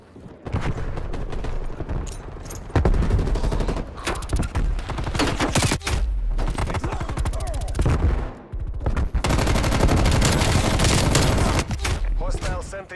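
PPSh-41 submachine gun fire in Call of Duty Cold War comes as loud, rapid full-auto bursts with brief pauses between them, mixed with other in-game combat noise.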